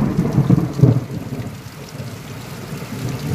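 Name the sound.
thunder and heavy rain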